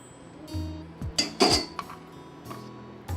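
A ladle stirs hot milk into a pan of sweet pearl-millet (kambu) laddu mixture, scraping and clinking against the metal a handful of times in short, close, irregular bursts with quiet gaps between.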